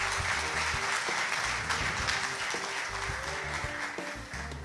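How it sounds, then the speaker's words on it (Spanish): Audience applause for an award recipient at a ceremony, continuous steady clapping from a crowd with music playing underneath throughout. "Fuerte el aplauso para ella."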